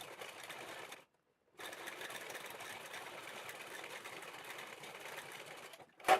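A sewing machine stitches down a bag strap made from old boots with a fast, steady mechanical whir and rapid needle chatter. It stops briefly for under a second, then runs evenly again at close range.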